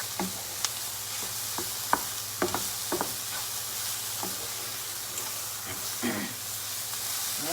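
Lion's mane mushrooms sauté in a pan with a constant close sizzle, punctuated by irregular clicks and taps from stirring scattered across the stretch.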